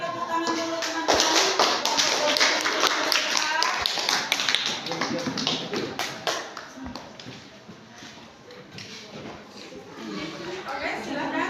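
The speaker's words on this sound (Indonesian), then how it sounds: "Silakan kita beri tepuk tangan dulu teman-teman." Applause for a student group about to present in a classroom, a dense burst of many hands clapping at close range that carries on for several seconds and thins toward the end.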